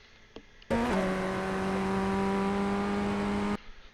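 Formula Ford FF1600 race car in iRacing at Willow Springs, its engine snapping up to a loud, steady high rev that holds for about three seconds with a slight pitch dip, close by and alone, then cutting off abruptly.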